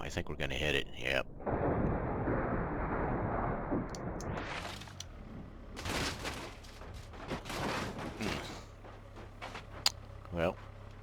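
A car crash in the BeamNG Drive video game sounds through a long crunching, rumbling impact, followed by scattered bangs and debris clatter while someone talks over it.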